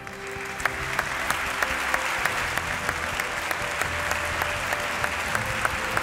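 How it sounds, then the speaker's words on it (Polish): Sustained applause from a large crowd at an awards gala, dense and even throughout, with individual claps popping out now and then. "Wielkie brawa raz jeszcze dla wszystkich nagrodzonych."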